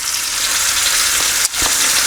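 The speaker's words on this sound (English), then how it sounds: "I'll probably be frying this bacon in batches." Loud, steady sizzling of bacon frying in a hot pan over medium-high heat, with a brief scrape of a utensil near the end.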